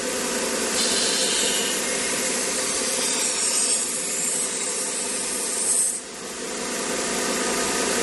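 A knife blade is ground on a 1x30 belt sharpener, giving a continuous, bright abrasive hiss that holds steady, dips briefly near the end, then resumes, close and alone with no voices.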